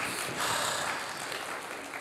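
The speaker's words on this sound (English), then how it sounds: "I just think there should be some clapping right now." Congregation clapping in a church service, a steady wash of applause filling the room for about two seconds with no talk over it.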